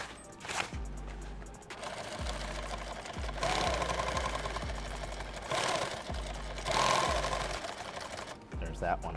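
A sewing machine stitches a kit bag in several loud bursts of rapid, rattling needle action close by, separated by short pauses, with a voice talking over parts of it.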